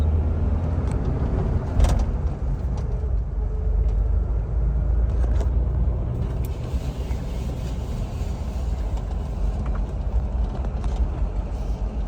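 A 2004 Jeep Wrangler TJ engine drones steadily from inside the cab while driving, a low continuous rumble at constant loudness with no talking.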